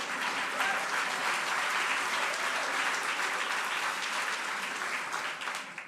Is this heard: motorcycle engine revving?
no